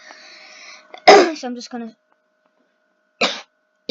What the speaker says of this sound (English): sorry, I still have a bit of a cough